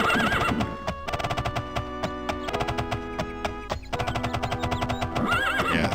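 A horse in the video game The Elder Scrolls II: Daggerfall neighs loudly and whinnies over a game soundtrack, with clip-clopping hooves tapping along.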